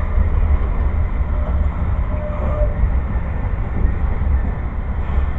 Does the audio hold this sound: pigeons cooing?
no